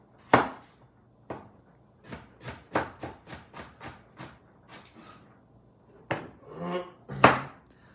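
A knife dicing onions and carrots for shepherd's pie on a board gives a run of crisp, evenly spaced chops, close and clear. A few louder knocks come at the start and near the end, with no talk.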